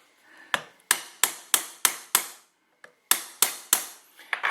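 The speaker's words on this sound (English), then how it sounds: "I need to get a bigger punch because it's starting to open up the roll pin" A steel punch hammered against a roll pin on an AR-15 held in a vise: sharp metallic hammer blows, close and loud, coming in a quick run of five, a pause, then four more, no talking.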